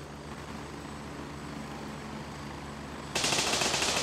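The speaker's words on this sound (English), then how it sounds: "Oh, don't shoot the helicopter." A helicopter in the video game Gray Zone Warfare, a steady rumbling rotor drone that holds even, then jumps to a louder, harsher roar near the end.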